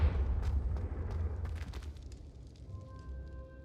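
A Confringo fire-blast spell in the game Hogwarts Legacy erupts with a deep fiery boom and crackling burst, then settles into a fading rumble with a faint ringing tone at the end.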